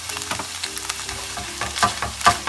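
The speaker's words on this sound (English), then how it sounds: "And give it a stir." A tofu scramble seasoned with turmeric and onion powder is stirred in a frying pan, a soft, constant sizzle overlaid by repeated scraping strokes of the utensil, close and moderately loud.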